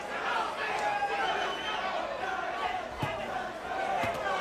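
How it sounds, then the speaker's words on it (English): A boxing arena crowd roars and cheers in a sustained, distant wash of voices, with a few sharper thuds and shouts rising out of the noise. "the crowd again showing its both appreciation and support for Jose Revolta"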